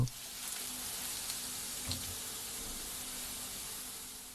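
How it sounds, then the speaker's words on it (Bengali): Chopped garlic sizzling in oil left over from frying hilsa fish, a soft, even hiss that holds steady for a few seconds, fairly quiet and with no voices. "ইলিশ মাছ তোলা হয়ে গেলে আমরা একই তেলে রসুন কুচি দিয়ে রসুনে লাল হওয়া পর্যন্ত"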